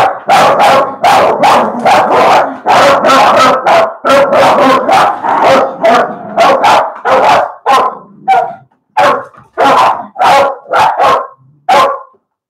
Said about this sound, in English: And the dogs will go crazy.